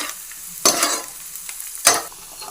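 Onions and green chillies frying in hot oil for vegetable fried rice give a low, steady sizzle, broken twice by sharp bursts of hissing as the pan is stirred.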